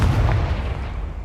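A Confringo fire spell in Hogwarts Legacy lands as a single loud, deep booming blast that rolls off and fades over about a second.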